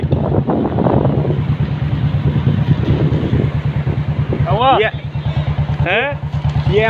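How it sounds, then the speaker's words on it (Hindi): A motorcycle runs on a mountain road on the way to Badrinath, its engine pulsing in a steady throb under heavy wind buffeting, with a couple of brief rising tones near the end and people talking over it. "हमारी सेकंड बाइक पीछे है अभी, वो आ रही।"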